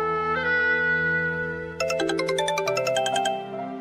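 A phone ringtone plays as a bright electronic melody: a few sustained tones, then a quicker pulsing run of notes, clear and alone with no talking.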